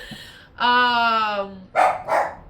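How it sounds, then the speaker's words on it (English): A dog at home barks, a drawn-out whining yelp followed by two short, sharp barks, close and loud, with no talking. "My dog is going crazy tonight."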